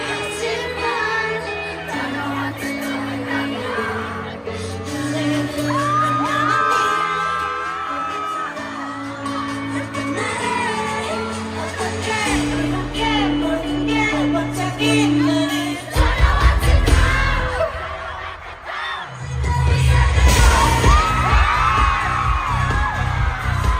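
A large stadium crowd of fans screams, whoops and cheers continuously over loud concert music, with surges of noise near the end.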